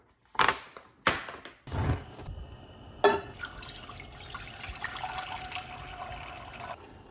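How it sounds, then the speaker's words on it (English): Water runs into a pot for cooking luosifen river snail rice noodles, following a few sharp clanks of the pot, then a steady close pour that fills for several seconds before stopping. "add 500 milliliters of water to the pot"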